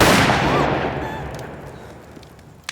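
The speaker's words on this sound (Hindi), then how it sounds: "शहरी ने गोली चलाई" A single gunshot sound effect opens with a loud, sharp crack, then a long reverberant tail that slowly fades, ending with a small click.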